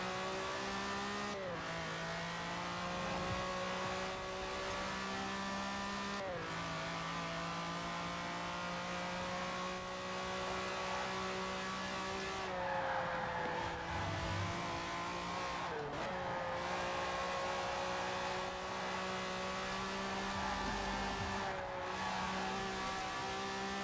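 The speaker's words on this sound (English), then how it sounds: "And the Countach is definitely not the best car, but if you have trouble driving rear-wheel drive, it's a nice car." A Lamborghini Countach, rear-wheel drive, in the Forza racing game holds a steady engine drone, with repeated gear shifts and revs shifting pitch through corners and a faint tire squeal. No one speaks over it.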